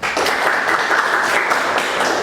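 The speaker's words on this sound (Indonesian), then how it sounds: "Tepuk tangan dulu untuk kelompok Dividing Head." Classroom applause for a presenting student group, dense steady clapping from many students, close and loud throughout.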